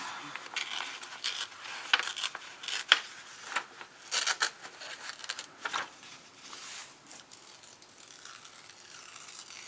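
Paper from a grocery bag being torn off in small pieces, a run of crisp crinkly rips and rustles with a few sharp snaps, close up and moderately loud, no one speaking.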